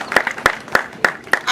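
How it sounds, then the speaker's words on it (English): At a university alumni reunion, an audience claps in five sharp, evenly spaced beats, loud and close, like a short burst of rhythmic unison clapping. "Clap her so much."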